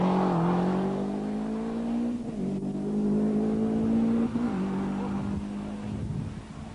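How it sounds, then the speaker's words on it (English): A damaged Opel Calibra rally car races through a night stage of the 1993 Nacht van Achtmaal rally, its engine holding a steady, loud drone with brief dips at gear changes, close by and continuous. "the leader at the moment, Erwin Doctor in the slightly damaged Calibra. Sounding beautiful and looking great"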